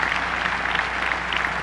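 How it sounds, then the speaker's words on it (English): Audience applause at John McEnroe's 1999 tennis Hall of Fame induction ceremony, a steady, dense wash of clapping that holds evenly for the whole short stretch with no voices over it. "give him a round of applause"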